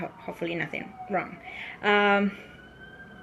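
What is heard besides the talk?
ambulance siren passing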